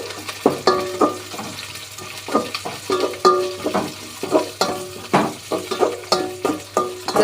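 Avaram flowers frying in hot oil with green chillies, close sizzling punctuated by repeated scraping stirs in a steady rhythm, no voices.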